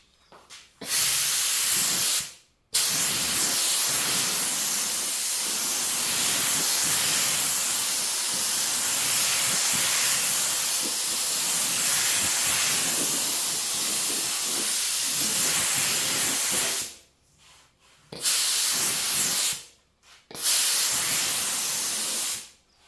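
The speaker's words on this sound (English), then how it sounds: "We're gonna spray another coat." Long continuous hiss of gold spray paint over desert tan, close and steady, with a short pause early on and brief stops and restarts near the end.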